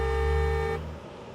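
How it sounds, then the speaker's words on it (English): A car horn honks in one steady, sustained blast for most of a second, heard muffled from inside the car's cabin, then stops abruptly, leaving only quiet interior background. "the soundproofing in this car is very nice because the horn doesn't sound loud at all"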